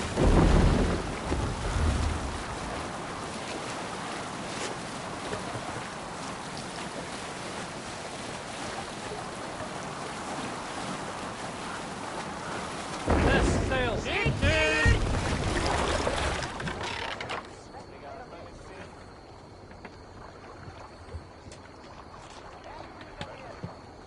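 Longship setting sail in Assassin's Creed Valhalla, a loud roar of wind and surging water with rumbling waves, then a burst of flapping, creaking canvas before it quiets to softer ambience.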